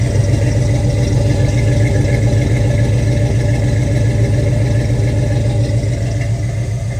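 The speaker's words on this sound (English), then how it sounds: "Nice smooth running big block V8. With one heck of a rumble back here at the rear end." A 1969 Chevrolet Chevelle SS with a 396 big block V8 idles with a deep, smooth, steady rumble heard from the rear of the car, loud and close with no talk.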